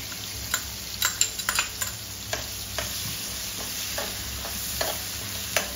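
Crushed chilli thecha paste frying in a pan while making dal dhokla, a steady soft sizzle with scattered crackles and spatters throughout, close and moderately quiet, no voices.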